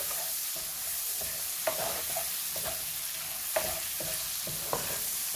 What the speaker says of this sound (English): Fry them up a little bit.